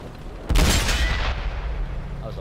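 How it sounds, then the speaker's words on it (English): A tank cannon fires in the video game World of Tanks: after a low rumble, a single sudden, loud, heavy blast cuts in and slowly rolls off into a lingering boom. "I saw him fire right as I pulled the trigger"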